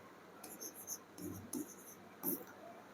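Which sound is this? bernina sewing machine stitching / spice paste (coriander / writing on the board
writing on the board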